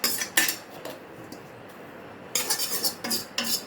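A utensil scrapes and clinks against a pot while coconut rice is stirred, in short bursts separated by quiet gaps, close and fairly loud.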